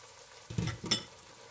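Diced tomatoes being stirred and fried in a pan: two short, close scraping stirs with a wet sizzle over a quiet background, no voices.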